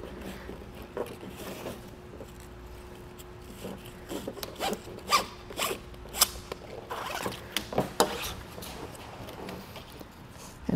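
Plastic straps and buckles on a Yakima GateKeeper tailgate pad are pulled loose on a 2021 Jeep Gladiator, giving a series of close, sharp rasping and zipping sounds with brief rubbing in between.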